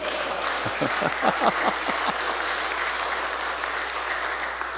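A church congregation breaks into applause during a family-invitation worship service. The clapping is quick and rhythmic at first, with distinct claps, then becomes a steady, even patter of moderate loudness that continues to the end.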